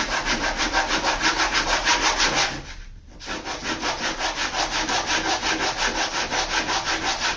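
Sandpaper rubs back and forth over the wood of a handmade cigar box mandocello in steady, close strokes, pausing briefly midway before the rhythmic scraping resumes.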